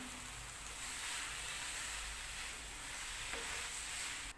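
Finely chopped tomatoes added to a turmeric masala in a pan for Kerala-style egg roast, a soft, steady hissing sizzle that stays faint and even, with no talking.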